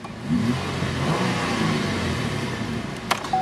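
A car engine revs up and holds at a steady mid-pitched roar for a few seconds, loud and close, with a short sharp tap near the end.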